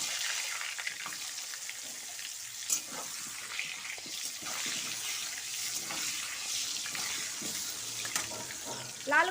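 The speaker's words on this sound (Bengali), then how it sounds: "লাল করে ভেজে নিচ্ছি।" Whole potatoes with salt and turmeric fry in hot oil, giving a continuous bright hiss and crackle close by, with occasional louder spatters.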